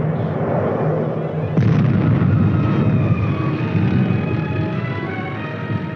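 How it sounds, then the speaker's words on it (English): Artillery fire on enemy positions in a 1950s US Army film, a continuous dense rumble of distant guns and explosions with one sharper blast early on. "the team commander asked that the artillery shift its fire to enemy positions on the flank and rear of the enemy's forces"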